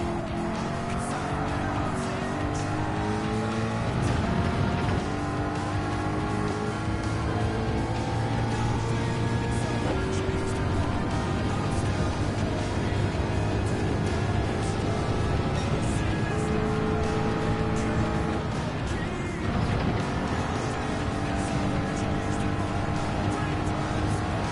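Race car engine lapping Suzuka in Gran Turismo 7 during an online Nations Cup race, a loud, unbroken high-revving whine rising and falling through gear changes, with brief tire squeal through the corners.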